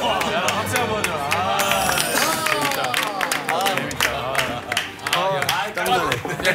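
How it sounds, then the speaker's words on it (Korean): A crowd claps and cheers loosely while several people laugh and talk in Korean over the noise, all fairly close and lively. "박수 한번 줘"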